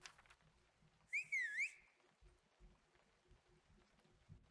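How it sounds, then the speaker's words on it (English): A character in the video game Cabernet gives a single bright, sliding whistle to cast an enchantment, lasting about half a second at moderate level above a faint, quiet background. "Do you have to whistle every time you do it?"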